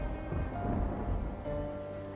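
Steady, dense rain pours down close by with a continuous hiss and a low rumbling undertone, with no voices.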